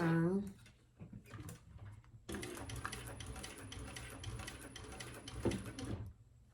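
A sewing machine stitches a bag near its hardware, a close rapid mechanical whir running for several seconds after a brief voice and a few soft handling clicks, then stopping.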